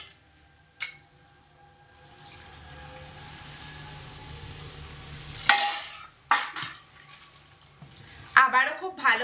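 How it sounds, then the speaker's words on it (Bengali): Atta tiffin with spices and water being stirred in a pan, brief clattering scrapes of a spoon against metal and a faint sizzle, with a person talking. "আবারও খুব ভালো করে একটু নাড়াচাড়া করে মিশিয়ে নিলাম।"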